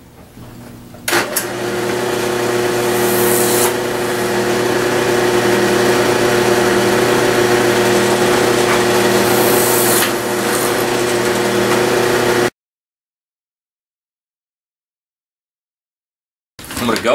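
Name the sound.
power drill drilling holes in pipe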